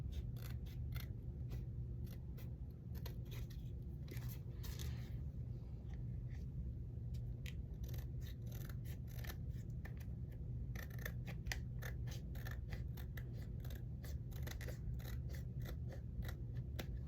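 Scissors make a steady run of small snipping cuts through repurposed plastic packaging while a mini pouch with flaps is made, quiet and close over a low background hum.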